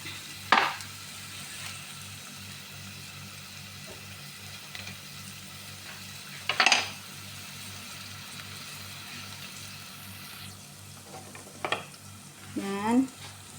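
Bitter gourd stir-fried with ground meat, garlic and onion gives a low, steady frying hiss, broken by a few sharp scrapes of a utensil against the pan spaced several seconds apart.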